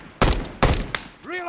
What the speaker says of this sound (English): You are firing at something way out over there.